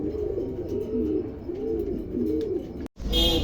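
A pair of fantail pigeons coo in soft, rolling phrases that repeat close by; after a brief pause, a brighter, louder burst of cooing and rustling follows.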